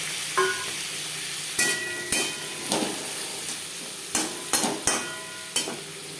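Onion and tomato frying with small mourola fish in a pan: a steady close sizzle runs throughout, broken by about eight sharp spatula clanks and scrapes as the mixture is stirred.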